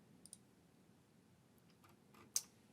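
Computer mouse clicks: a couple of light taps early on, then one sharper, distinct click near the end, all faint against a quiet background.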